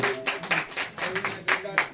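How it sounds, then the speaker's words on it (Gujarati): Audience at a village devotional music program claps in a quick, uneven burst of applause, fairly close and steady for a couple of seconds. "તાળીઓથી તાળીઓના થી વધાવી લ્યો ભાઈ"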